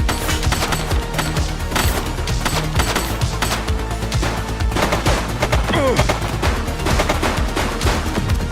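Dense, sustained gunfire from the video game The Precinct: rapid overlapping shots and bursts crackle loudly throughout, with no break.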